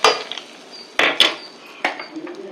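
A pan of hot tempering tipped into a pot of kootu: a few sharp metallic clanks and scrapes of pan against pot, close by, with quiet sizzling between.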